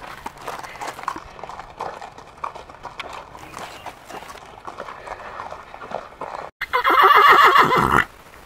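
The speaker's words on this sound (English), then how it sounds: "We're leading them down to the other paddock because they're old horses." Old horses are led between paddocks, their hooves clip-clopping softly and unevenly at first, until a loud, close neigh breaks out near the end; faint murmurs sit in the background.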